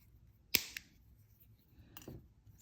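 Wire cutters snip lengths of jewelry wire for a wire-wrapped necklace: one sharp close click, a smaller click just after, then a softer snip about a second and a half later, in a quiet room.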